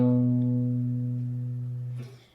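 Guitar playing an ascending major second from A: a clear plucked note rings out and slowly fades, then a second, higher note is plucked just before the end.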